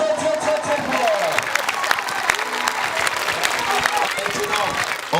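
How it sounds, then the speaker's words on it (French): Lively audience applause at a gathering, a dense crackle of many hands clapping close by with a few cheers mixed in, while a voice carries on talking over the clapping throughout. "Merci de l'applaudir, mesdames et messieurs, il est très fort."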